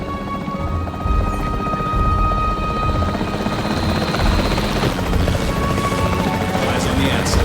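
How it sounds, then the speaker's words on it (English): Capture team helicopter in the Jurassic World Evolution 3 video game, a loud, steady rotor thump and engine drone running throughout, with radio chatter and voices mixed over it. "The priority needs to be tranquilizing it with the capture team chopper."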